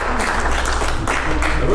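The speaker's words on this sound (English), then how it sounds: "Give the Lord a hand clap." A church congregation claps together in praise, a dense, steady burst of hand clapping at close range that lasts a couple of seconds, with faint voices underneath.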